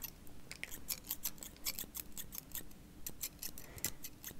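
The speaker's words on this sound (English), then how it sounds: "Snip, snip, snip, snip, snip, snip, snip." Scissors snip rapidly and repeatedly during a relaxing haircut, crisp close metallic clicks in an irregular stream with soft handling noise underneath.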